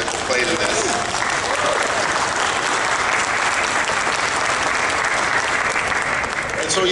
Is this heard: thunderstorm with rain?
no